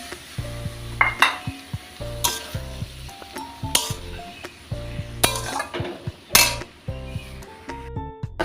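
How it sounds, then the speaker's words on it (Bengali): Leafy greens stirred in a sizzling pan as a little water is added, with irregular metallic clinks and scrapes of the spatula against the pan over a low frying hiss, close and loud in bursts. "এবার নেড়ে চেড়ে একটুখানি জল দিয়ে দেবো"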